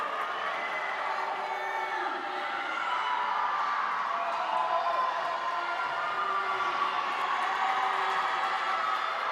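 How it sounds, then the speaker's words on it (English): Teammates cheer at a high school swimming meet between Swampscott and Beverly, a steady, echoing wash of crowd noise and scattered shouts filling an indoor pool hall without a break. "Now the crowd's getting kind of excited here. Lots of cheering from teammates."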